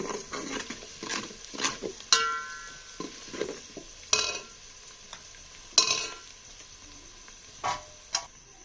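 Food frying in a pan with soft sizzling, broken by sharp scraping and clinking strikes of a utensil stirring at irregular intervals, close and fairly quiet.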